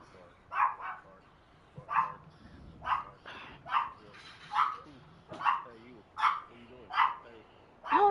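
A pet dog named Sovereign barking indoors, sharp single barks repeating at a steady pace roughly every second, fairly close, with faint background sound between barks.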